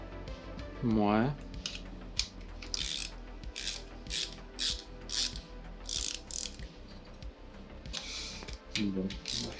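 Ratchet tightening parts on a Nissan 350Z plenum and fuel circuit, quick clicking bursts of the pawl close by, with someone speaking between the strokes.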